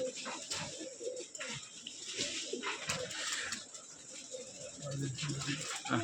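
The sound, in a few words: flock of high-flying pigeons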